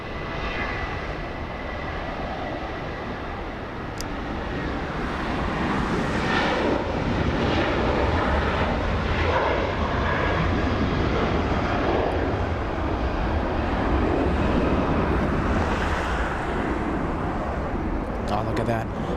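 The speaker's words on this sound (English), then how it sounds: "There goes WestJet flying to Calgary. You will hear it in just a few seconds." A WestJet airplane taking off from LAX for Calgary gives a broad, steady engine roar that swells and holds for many seconds at a distance, with a person talking over it.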